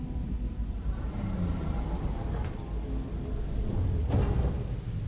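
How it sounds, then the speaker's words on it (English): Heavy rain pours in the video game Horizon Forbidden West as a dense, steady hiss over a low rumble, with a sharp crack close by near the end. "It's raining heavier."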